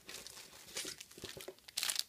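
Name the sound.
crinkling cellophane bags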